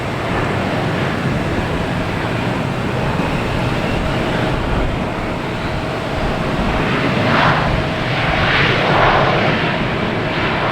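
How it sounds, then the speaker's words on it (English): An American Airlines Embraer E-175 jet at Boston Logan Airport, a loud continuous engine roar with broad rushing noise that holds steady throughout, heard outdoors with no talking. "That American E-175 coming from Indianapolis."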